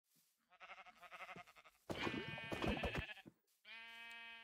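Minecraft sheep bleat several times in a row, loud and clear game sound effects with short pauses between the calls and no talking over them.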